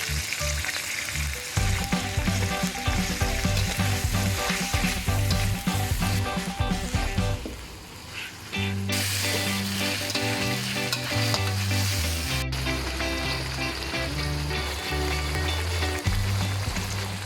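Pork belly stir-fries in a wok for a spicy stir-fry, with fish sauce added: a loud, continuous sizzle and crackle, a brief dip midway, then a renewed hiss with stirring scrapes and no speech.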